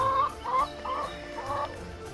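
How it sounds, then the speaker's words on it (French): Several hens cluck in a backyard coop, a run of close, repeated throaty clucks in an uneven rhythm, with no talk. "Et nous avons les poules. Et nous allons vous présenter nos poules."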